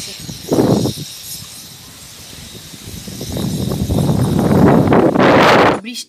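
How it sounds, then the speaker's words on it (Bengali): Strong wind gusts across a rooftop, buffeting the microphone in loud rushes that swell and fade, with a brief gust early and a longer, stronger blast near the end. "বড় হাওয়া চলছে"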